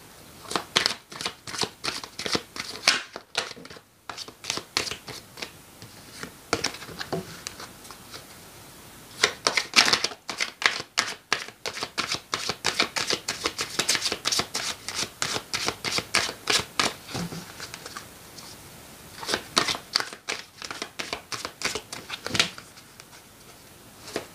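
Tarot cards being shuffled by hand, a long run of crisp, rapid riffling bursts with brief pauses between them, close and fairly loud with no talk.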